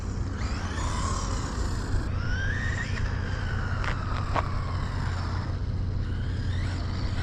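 A small 2S-powered RC car runs in a steady, continuous drive, its motor whine rising and falling in pitch across the run, loud and close throughout with no talking.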